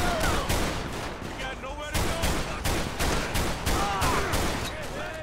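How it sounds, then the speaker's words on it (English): Gunfire in a night shootout in the LSPDFR police mod for GTA V: rapid, sharp shots in repeated bursts, close and loud, stacked over a constant din with no pauses. "I am under heavy fire. I have other officers up there shooting back at the suspect."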